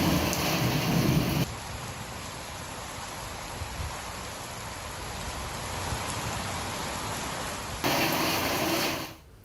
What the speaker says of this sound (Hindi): तेज बारिश के साथ मौसम सुहाना हो गया।